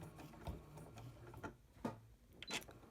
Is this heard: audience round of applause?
no